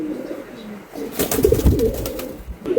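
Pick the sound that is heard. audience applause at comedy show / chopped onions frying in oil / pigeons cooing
pigeons cooing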